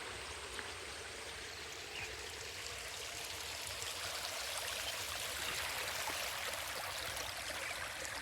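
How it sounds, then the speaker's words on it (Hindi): Water rushes steadily through a year-round farm irrigation channel between paddy fields, a constant close hiss and gurgle with no voices. "ये देखो पानी, ये जो कुल है ना, ये हमेशा 12 महीना चलती है।"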